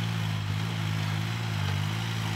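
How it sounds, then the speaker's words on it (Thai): Kubota L3608SP tractor engine running with no exhaust pipe fitted, a loud steady low drone with a strong even hum and hiss that holds without a break. "รถไถคูเปอร์ต้า36นะครับจะไม่มีท่อไอเสียนะครับ"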